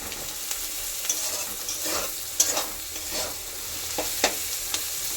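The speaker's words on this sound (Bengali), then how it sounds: "তো পেঁয়াজটা আমি এখন দেখো ভালোভাবে ভাজা করে নিই" Six or seven onions fry in a pan for a one-kilo mutton curry, giving a steady close sizzle broken by repeated scraping stirs of a spoon, with no talking.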